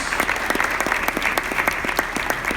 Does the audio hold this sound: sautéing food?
no